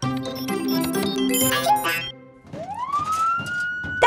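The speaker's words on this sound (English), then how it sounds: "That was a nee-naw, but it needs to be much louder" A clutter of mixed tones gives way to a wailing siren rising in pitch and holding steady, moderately loud with background noise underneath.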